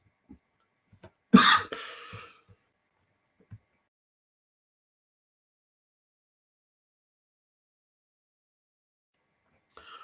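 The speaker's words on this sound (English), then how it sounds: "That cough, terrible cough I've got there." A single harsh cough bursts out, followed by a short rasping tail, then long near-silence with a few faint clicks and rustles.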